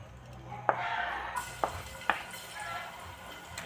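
Food sizzling and frying in a pan during a sauté, with a few sharp clacks of a utensil stirring against the pan over a steady low hiss.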